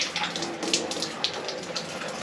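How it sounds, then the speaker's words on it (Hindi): Water streams steadily from an Enagic SD501 Kangen water machine, a close, continuous splashing gush with small bubbling fluctuations throughout and no talking. "यहाँ से पानी चालू हो गया है मशीन का"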